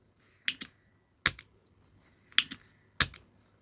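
The spring-loaded pump on a cheap plastic-bodied desoldering iron snaps four times, each a crisp, close click with a short clattery tail, spaced irregularly against near silence.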